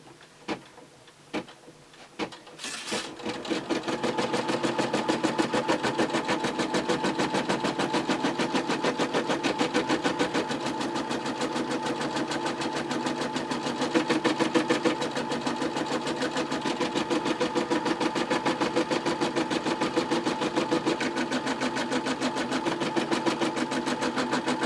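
A Brother M320e embroidery machine stitching a design onto a t-shirt, starting after a few clicks and then running in a rapid, steady mechanical chatter of needle strokes at close range.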